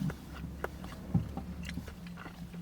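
Crispy fried chicken from a fast-food restaurant being bitten and chewed up close, with one sharper crunching bite among soft, irregular chewing and mouth noises over a low background hum.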